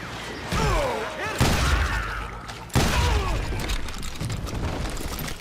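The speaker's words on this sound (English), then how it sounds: "They're shooting in the street!" Gunfire in the Western video game Call of Juarez Gunslinger comes as two or three sharp, heavy booms with rattling tails, spaced about a second apart and mixed with game voices and shouting.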